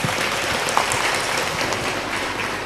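Audience applause at an Indonesian religious gathering (pengajian), a dense, steady patter of many hands clapping throughout, moderately loud and somewhat distant, with no talk over it.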